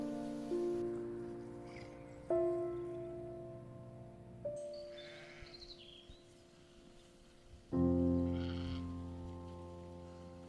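Young lambs bleat repeatedly on a farm in spring lambing season, several loud, wavering calls rising one after another with quieter pauses between, close by and with no talking.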